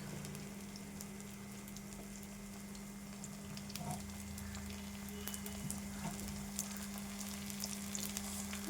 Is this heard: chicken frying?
yes